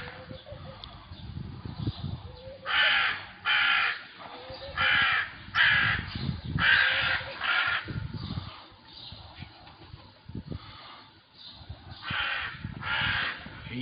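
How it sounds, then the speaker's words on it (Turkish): Several crows caw in repeated bursts of harsh calls, fairly close and loud, over a low background rumble on a Sunday morning. "Kargalar geldiğini uyarıyor."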